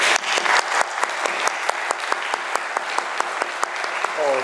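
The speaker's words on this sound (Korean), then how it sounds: "우리 주님께 한번 박수 올려주세요." At a Korean church's Sunday service in Rochester, the congregation claps together in a steady, rhythmic beat. The sharp, evenly spaced claps come from a crowded room and fill the whole stretch.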